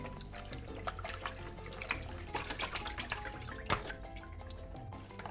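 Tripe for menudo is rinsed and drained under running water, giving a steady splashing and sloshing with irregular drips and soft bumps from the sink. The sound is fairly quiet and close, with no talking.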